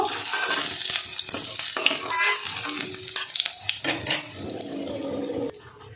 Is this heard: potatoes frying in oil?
yes